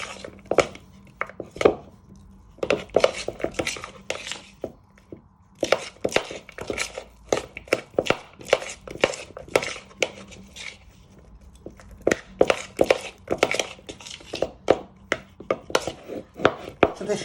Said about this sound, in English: with a spoon, you want to give this a good bind together